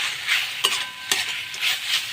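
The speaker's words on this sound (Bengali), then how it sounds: "দেখুন এটা মিশিয়ে নিলাম।" Fenugreek greens being stirred in a pan, a soft sizzle with a few distinct scraping strokes of a spoon, close and moderately quiet, with no speech.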